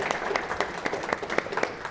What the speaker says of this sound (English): A big applause also a ese.